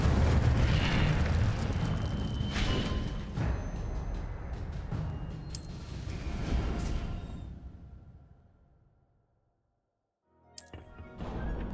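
The Incendio fire spell in the video game Hogwarts Legacy erupts as a loud roaring burst of flame with crackling impacts, swelling and then fading to near silence before a fresh flare returns at the end.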